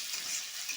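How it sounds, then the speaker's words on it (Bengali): Potatoes frying in a pan of hot oil with onions for a Bengali crab curry, a steady close hiss of sizzling that carries evenly through the short moment with no voices. "এর সাথে আলুগুলো আমি খুব ভালো করে ভেজে নেব।"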